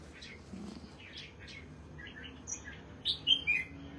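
Caged songbirds chirp in the morning with scattered short high tweets and calls, some close and some farther off, building to a brighter cluster of chirps near the end over a low background hum.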